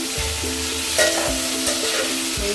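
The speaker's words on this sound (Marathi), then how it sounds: "त्याबरोबरच त्यामध्ये एक चिरलेला टोमॅटो टाकायचा आहे।" Chopped tomato fries in a pan with other misal ingredients, a close, steady sizzle with several spoon stirs scraping through it. No voices are heard.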